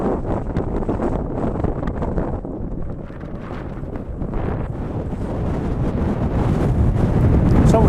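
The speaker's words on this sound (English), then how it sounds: "It's extremely windy up here, and the weather's trying to close in fast" Strong gusting wind buffeting the microphone on an exposed Welsh hilltop at an Iron Age hillfort, a loud roaring rumble that dips briefly then swells stronger toward the end, with no voices.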